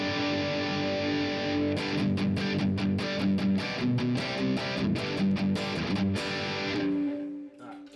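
A Kiesel electric guitar plays with heavy distortion and delay, strummed chords ringing out with sustained, echoing tails before fading at the end.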